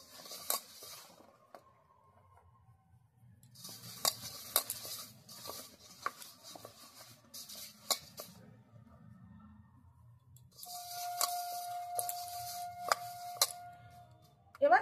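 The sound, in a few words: mixing dough with flour by hand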